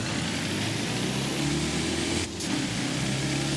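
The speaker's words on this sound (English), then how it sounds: "And listen to that diesel tone." A diesel lorry engine in Forza Horizon 5 drones steadily with a low rumbling tone and a brief dip as the revs change, close and continuous with no talking.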